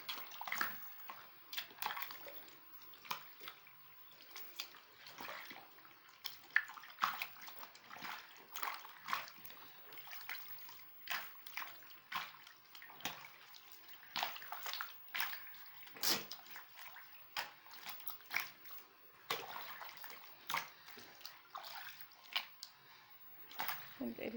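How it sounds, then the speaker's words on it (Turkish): Homemade butter is washed by hand in a bowl of plenty of water, with repeated close sloshing, squelching and small splashes in an irregular rhythm and some talk in the background. "Bu su durulanana kadar bu şekilde tereyağını suyun içinde yıkayacağız"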